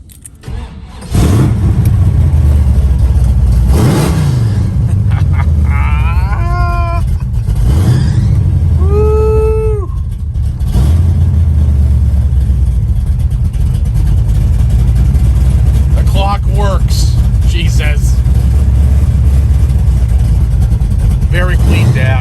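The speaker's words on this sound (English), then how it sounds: "I'm gonna fire up the car, and then I'm gonna do another walk around" A 1970 Chevrolet Chevelle engine cranks and fires up loudly, then settles into a deep, rumbling idle that continues steadily for the rest of the clip, with a voice talking intermittently over it.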